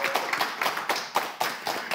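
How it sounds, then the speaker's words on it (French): A small audience claps in loose, sparse rhythm at a French television show, the individual claps distinct and close rather than a dense wash. "Allez, on applaudit."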